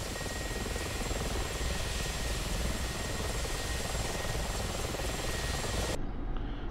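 A Mil Mi-24 attack helicopter in the DCS flight simulator runs with engines and rotor at full steady roar, a dense constant whine and thrum that cuts off abruptly near the end.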